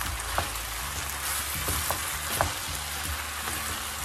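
Rice noodles with vegetables, mushrooms and spring onion tossed in a hot pan, a low steady sizzle with a few soft scrapes and taps of stirring, nobody speaking.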